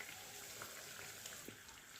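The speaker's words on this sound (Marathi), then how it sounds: "आपण त्याला आणखीन या साईडनं थोडं फ्राय करून घेऊया" Kachori deep frying in hot oil, a faint, steady bubbling sizzle with a few small pops, heard alone with no voices.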